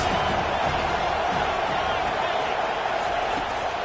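Stadium crowd at an Aggies versus Miami football game, roaring steadily in a broad, continuous wash of cheering for the defense on a big third down, loud and sustained throughout with no pause.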